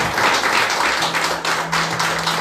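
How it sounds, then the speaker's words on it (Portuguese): A church congregation claps together in a steady, continuous wash of applause, dense and fairly loud, with no pause across the short span. "Aplauda ao Senhor em nome de Jesus."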